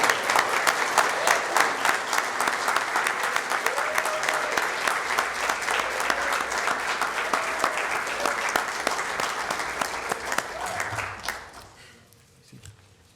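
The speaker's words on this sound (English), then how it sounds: "You can clap, absolutely." Audience at a police department swearing-in ceremony applauding new officers, sustained dense clapping from a large crowd for about eleven seconds before fading away into quiet.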